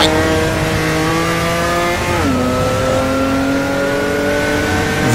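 A race car in an online racing video game holds a high, loud engine tone with clear harmonic whines. Midway the pitch drops sharply on a gear change, then climbs steadily again under hard acceleration, with no talk over it.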